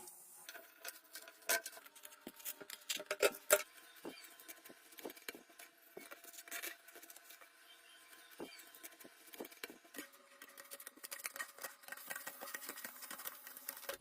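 Scissors snip through card, cutting out a marked piece for a homemade glove, making quiet, irregular crisp clicks and rustles heard close and alone.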